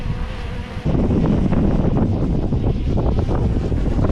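A small drone's steady whirring buzz, close by and continuous, with gusty wind rumbling across the microphone, outdoors in the Peak District at the High Stones.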